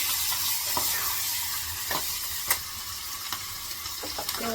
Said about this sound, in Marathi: कोथंबीर बटाटा आणि मीठ एकत्र चांगलं परतून घेते